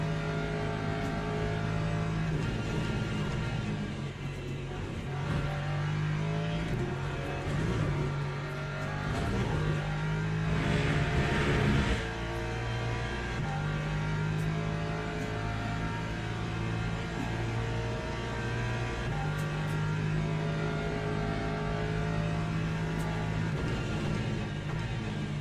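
A hypercar racing engine at Le Mans Ultimate, a steady high-pitched whine holding near constant revs with brief shifts in pitch, loud and continuous throughout.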